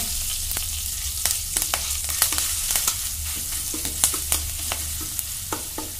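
Cumin, curry leaves and garlic paste sizzle loudly in hot oil for carrot palya, a steady close fry broken by frequent scraping clicks of a stirring spoon.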